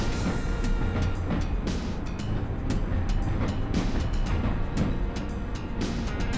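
A subway train rumbles along in the Doom II: Heartland map Subway Sandwich, a loud steady rolling roar with rhythmic rail clatter and clicks running continuously, no voices.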